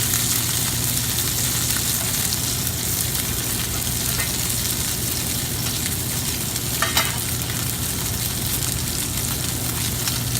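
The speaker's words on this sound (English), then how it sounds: "It's nice sear." Steady, loud sizzling of salmon searing in a hot pan, continuous crackle and hiss with no talking.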